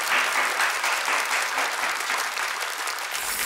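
A studio audience breaks into loud, sustained applause, many hands clapping together close by without pause.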